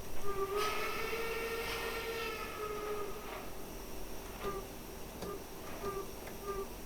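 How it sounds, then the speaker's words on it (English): A steam locomotive's hooter whistle sounds in Train Simulator Classic on an 1885 Dom Pedro 2-10-0, a long steady moaning tone at moderate level followed by several short toots, over a low rumbling background with no talk. "this is definitely one of the best sounding playable Hooter whistles"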